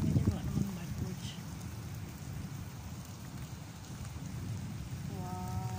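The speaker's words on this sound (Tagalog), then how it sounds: "First ever rain." Rain falls outdoors in the UAE, a continuous close patter of drops on surfaces that holds steady throughout, with a voice briefly heard near the start.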